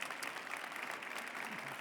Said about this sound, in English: please, to give a round of applause to the volunteers and the ChangeNOW team